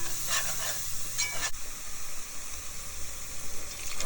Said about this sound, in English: give it a stir, and then the flour, and let it simmer for about 1 minute